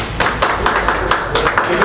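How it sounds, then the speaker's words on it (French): Wedding guests at a civil marriage ceremony clapping, a short run of rhythmic near claps with voices in the background. "Applaudissez pour ce coup."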